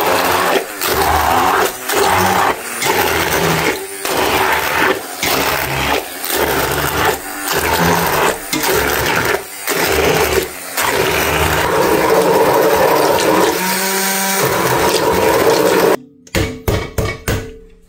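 An immersion blender purees plums for jam in loud, close bursts, pulsing on and off repeatedly with brief pauses, then stutters to a stop.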